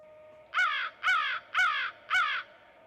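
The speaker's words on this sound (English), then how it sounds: "That is the American crow, the kind of classic caw." American crow giving four loud, harsh caws in an even rhythm, each lasting about a third of a second, close and clear over a faint steady background hum.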